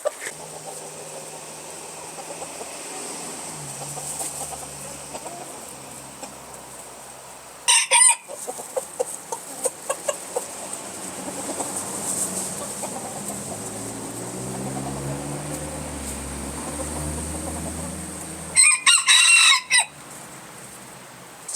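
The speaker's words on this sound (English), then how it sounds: "giving the chickens a snack here" Backyard chickens in a deep-litter coop cluck steadily while being fed a snack, and a rooster crows loudly twice, near and clear, with no talking.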